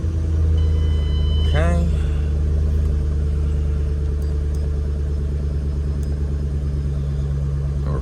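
A 2013 Shelby GT with a Trinity TVS supercharger sits on a dyno, its engine running at a loud, steady, close idle with a deep rumble. A short spoken word is heard near the start.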